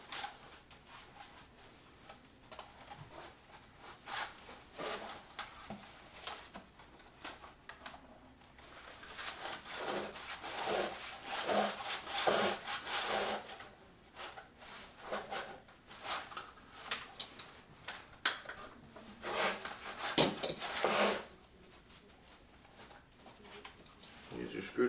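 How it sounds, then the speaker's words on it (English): Pliers yanking a leather strap through the holes of a tabla being reheaded, with repeated scraping pulls and rubbing sounds that come in bursts, faint and close, while a person talks in between. "you can use your pliers and just yank that through."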